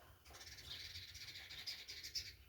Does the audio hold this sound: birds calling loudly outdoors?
yes